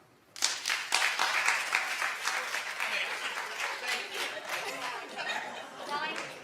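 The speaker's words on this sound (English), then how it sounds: "Clap if you've watched this show." A studio audience bursts into scattered applause that holds fairly steady before thinning slightly, mixed with murmured chatter and faint laughter.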